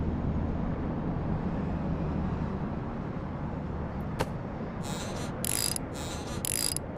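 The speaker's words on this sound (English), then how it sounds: "Rotate the wrench to loosen the nut." Ratcheting wrench loosening a wheel nut on a Boeing 747 landing gear wheel, a steady mechanical grinding hum with short clicking ratchet bursts near the end.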